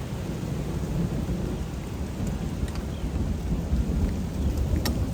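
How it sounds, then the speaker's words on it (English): Thunder rumbles low and continuous through a backyard storm, steady and fairly loud throughout, with rain hissing over it. "Alright, I'm not liking that thunder."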